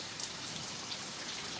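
Steady rain falls on an outdoor bird aviary, a continuous dense patter of drops at moderate distance with no voices.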